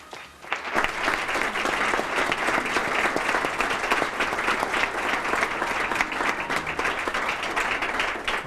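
An audience applauds at the 1997 Rosie Awards, a Wadsworth Chamber of Commerce ceremony. After a brief quiet start, dense, steady clapping rises abruptly and holds at an even level to the end, with no talking.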